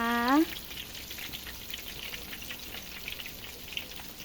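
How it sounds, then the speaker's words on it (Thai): Crispy pork deep-fries a second time in hot oil, giving a faint, steady crackle and bubbling throughout after a short tonal sound at the very start. "อันนี้ทอดซ้ำรอบสองนะคะเพื่อนๆค่ะ"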